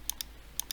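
Typing on a computer keyboard while entering quiz answers: four quick crisp key clicks in two pairs, close and clear over a quiet background.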